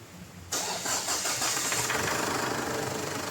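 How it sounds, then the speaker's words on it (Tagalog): A Ford Everest engine cranks and fires, jumping to a loud start and then settling into a steady idle, heard close with no talking. "pa-start ko na itong makina"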